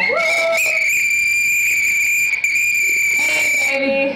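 Red whistles blow in a loud, sustained, shrill tone that holds steady for several seconds, with a couple of brief breaks, in an indoor studio during an HIV/AIDS awareness event in Manila.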